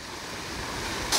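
Artificial waterfall in the garden of a country house beside the Nakdong River, a steady close rush and splash of falling water that fills the short stretch evenly, with no talk.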